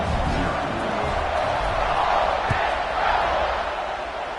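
A football stadium crowd roars and cheers steadily after a touchdown in a college game between Oklahoma and Ole Miss, a dense sustained wall of distant voices with a brief thud in the middle.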